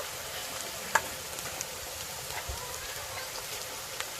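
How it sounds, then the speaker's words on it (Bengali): Onion, ginger and garlic frying in oil in a pan, a steady soft sizzle with faint crackles and a single sharp clink of a utensil near the start. "আদা আর রসুন পেঁয়াজের সঙ্গে আবারও খুব ভালো করে ভেজে নেব"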